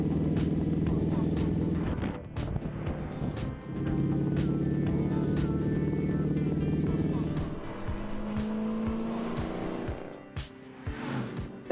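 Apollo 3500 GT sports car driving briskly, its engine a steady loud drone with shifts in pitch and brief dips, close and continuous throughout.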